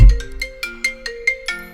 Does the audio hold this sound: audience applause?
no